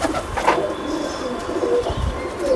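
Pigeons of the apple-coloured (sebon wala) breed, three brothers, coo softly and repeatedly in a loft, the low throaty calls close by and continuous over faint background noise.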